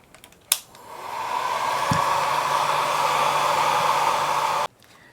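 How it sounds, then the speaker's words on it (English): A click, then a hair dryer whirs up and runs with a steady airy hum before switching off abruptly near the end. "I'm going to put the hairdryer on it just for a few minutes"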